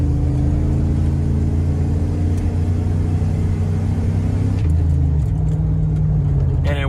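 A Ram pickup truck's engine runs loud and close with a steady, deep idling rumble, and a brief higher whir joins near the end.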